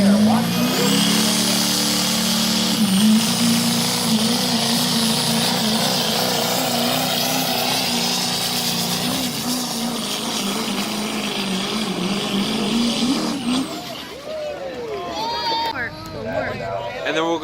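Big diesel trucks at a Diesel Days event roar loudly under sustained throttle, the engine note rising and holding before dropping off, with people talking nearby.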